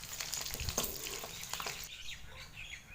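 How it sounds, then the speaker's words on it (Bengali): Eggs fry in hot oil in a wok, a steady soft sizzle and crackle with occasional pops, fading somewhat toward the end, no voices. "ডিমগুলো হালকা লাল লাল করে ভেজে নেব।"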